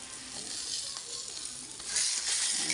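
Espada (beltfish) sizzles and crackles steadily in hot oil, a loud continuous frying hiss with faint stirring and no talk.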